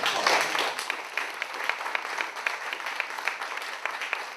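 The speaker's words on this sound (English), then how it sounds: "Let's give them all a warm round of applause." An audience at an Oxnard College alumni event applauds steadily for several seconds, with a dense wash of clapping and a few sharper claps standing out.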